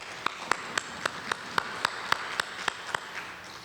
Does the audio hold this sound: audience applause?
yes